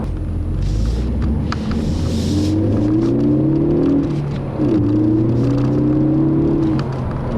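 Inside a 2013 Ford Focus ST, the engine climbs steadily under acceleration, a rising throaty whine that dips sharply at a gear shift midway and then builds again over road rumble.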